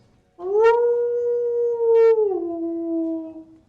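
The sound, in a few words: wolves howling in the distance through the woods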